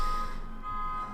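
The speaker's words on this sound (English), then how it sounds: "Can you hear that beeping?" Electronic beeping drifting in from a city street, a steady high tone repeating faintly in the background with a low hum underneath, no voices over it.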